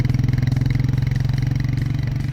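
Royal Enfield Meteor 350 motorcycle engine thumping at a relaxed, steady pace, a loud, even low pulse with rapid regular beats throughout, no talking.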